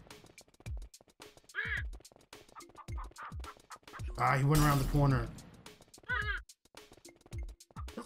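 Cartoonish duck quacks from the video game Chicken Bomb come in several bursts, the loudest and longest in the middle, with someone talking over them throughout.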